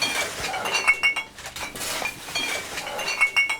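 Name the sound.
glass bottles clinking as they are dug out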